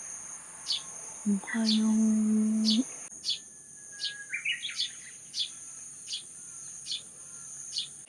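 A sparrow outdoors gives a quick cluster of faint chirps against a steady, shrill insect drone, after a voice speaks a short greeting.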